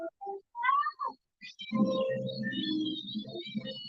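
A cartoon cat meows several times in Batman: The Animated Series, with short rising mews followed by a longer, louder, drawn-out yowl heard clearly alone.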